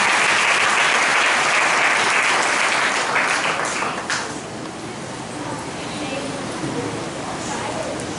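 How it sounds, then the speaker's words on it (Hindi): A church congregation breaks into loud, sustained applause for Christ, the dense clapping fading after a few seconds into a quieter room murmur with scattered claps and background voices. "एक बार इस मसीह के लिए जोरदार ताली बजाएंगे।"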